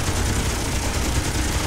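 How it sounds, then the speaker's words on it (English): Gatling guns on a scout craft in Space Engineers fire in one continuous, dense roar of rapid shots, steady and loud for the whole stretch with no talking. "Right now I have it on my projectile weapons and my Gatling guns"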